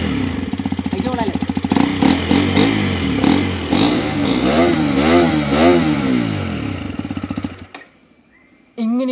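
A Hero XPulse 210 motorcycle with its stock exhaust idles, then revs hard several times in loud, close bursts before cutting off abruptly, with brief talk over it.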